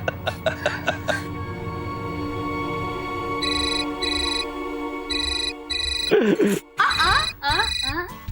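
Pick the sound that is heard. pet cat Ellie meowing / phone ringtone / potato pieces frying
phone ringtone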